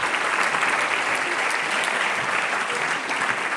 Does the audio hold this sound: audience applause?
yes